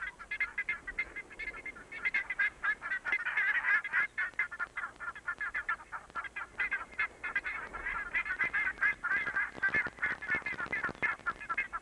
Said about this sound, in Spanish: La agricultura ha favorecido el aumento de algunas aves propias del Valle Central y Sur de Chile, como el queltehue y la bandurria.